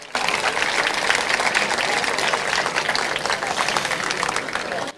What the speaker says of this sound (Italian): Un applauso per Edoardo Fainello.